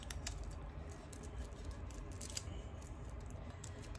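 Quiet, crisp snipping and crinkling as worn-out scissors cut through thin cellophane, a rapid irregular series of small clicks over a low background hum.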